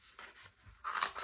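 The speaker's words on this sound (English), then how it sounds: "by cutting parts of a toilet paper roll." Scissors snipping through a cardboard toilet paper roll during a craft activity: a few short, crisp cuts, the last ones louder and closer, with no talking.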